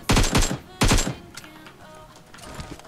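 Gunfire in PUBG Mobile rings out as two quick loud bursts of rapid shots close together, followed by fainter scattered distant reports.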